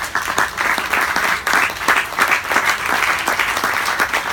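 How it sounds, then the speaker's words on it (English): A crowd gives Nathan a big round of applause at an essential-oil company's gathering with First Nations participants, loud, sustained and even clapping from many hands throughout. "let's give Nathan a big round of applause."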